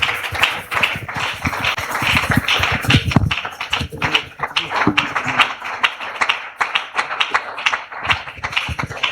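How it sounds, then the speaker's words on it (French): A congregation at a Christian worship gathering claps and cheers for the Lord, a dense, continuous wash of many hands clapping at close range with crowd noise throughout. "nous acclamons très fort le Seigneur."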